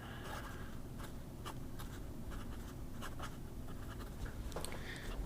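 Pen nib scratching ink across paper in steady close strokes with brief scrapes and pauses, writing out a sample of Blue Ringed ink as it dries to a red sheen, with no talking.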